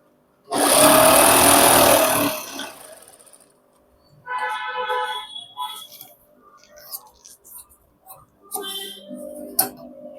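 A sewing machine stitches a pant in a loud, fast, close burst, then runs in shorter, softer spurts separated by pauses and handling noises.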